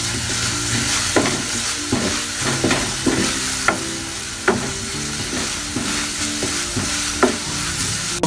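Panch phoron spice mix frying in a pan with a little oil for a healthy vegetarian dish, giving a steady close sizzle broken by repeated scraping strokes of a spoon as the spices are stirred, with no voices.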